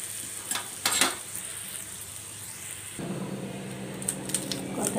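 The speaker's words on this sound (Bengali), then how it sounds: "ডালটা নামিয়ে আমি একটু কড়াইতে পেঁয়াজ আর একটু রসুন দিয়ে দিলাম" Onion and garlic frying in oil in a wok, a close, continuous hiss that swells and steadies partway through, with a few scraping stirs and no voices.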